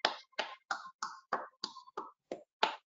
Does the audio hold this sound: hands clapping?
yes